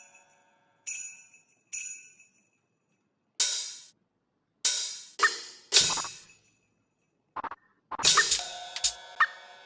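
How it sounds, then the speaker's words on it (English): A jingle bells sample is triggered in Ableton as a run of short, bright, shimmering hits with gaps between them, ending in a denser cluster of jingles. "I'll do some jingle bells."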